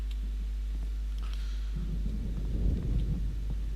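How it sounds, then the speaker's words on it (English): A creepy thunderstorm in the video game Alan Wake: a steady low rumble and hum with a building roll of thunder midway, distant and ominous, no voices. "Creepy storm."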